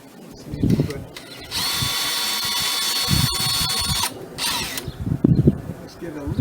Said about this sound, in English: so I need to pre-drill because you're going through this, I don't know if that's vinyl or aluminum coating